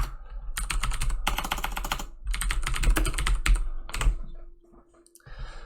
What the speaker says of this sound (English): So this is going to be a lot of typing